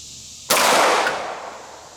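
A single sharp 9mm pistol shot with Hornady 115gr XTP hand loads, fired on an outdoor range, cracking loudly and close before a short decaying echo.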